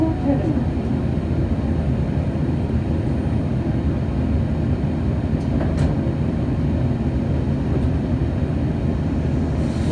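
A Nagano Electric Railway HiSE 1000 series limited express pulling into Obuse station: a steady, dense rumble of the running train heard from on board, with a few faint clicks and no clear rail beats.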